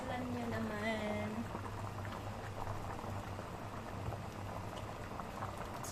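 Fish soup (tinolang isda) boiling steadily in a pot, a continuous bubbling simmer at close range with a low hum underneath and a brief faint voice early on.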